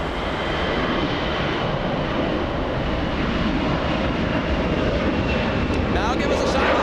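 A Lufthansa Airbus A380 jet at LAX gives a steady, broad engine roar that holds loud and even throughout, with people talking over it.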